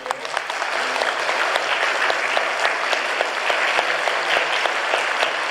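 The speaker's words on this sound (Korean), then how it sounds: "우리 따뜻한 격려 박수 한번 보내주세요." A church congregation applauds during a Sunday service, dense sustained clapping from many hands filling the room at an even level for several seconds.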